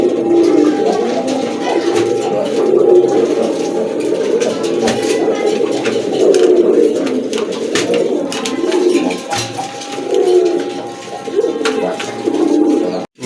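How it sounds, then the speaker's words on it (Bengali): Pet pigeons, including a crested breeding pair and a feather-footed male, cooing continuously and close in a loft, soft throaty rolling coos overlapping throughout. "মাশাআল্লাহ খুবই সুন্দর একটা নর কবুতর, শার্টিনের নর কবুতর"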